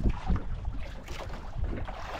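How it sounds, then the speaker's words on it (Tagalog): Rough sea slaps and churns around a fishing boat at sea, uneven washing surges with wind buffeting the microphone, fairly quiet and without voices. "Hindi pa rin nagbabago yung alon."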